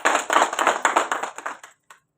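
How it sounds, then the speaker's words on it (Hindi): An audience at an academy gathering claps for Tej Bahadur Tiwari in quick, rhythmic bursts that thin out and stop after about a second and a half, ending in one last faint clap. "तेज बहादुर तिवारी जी को ताली गई"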